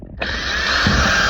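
Power drill boring pilot holes in wood for a downdraft sanding box, a steady high whine starting abruptly after a brief quiet moment and holding loud and close without pause.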